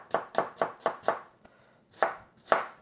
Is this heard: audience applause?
no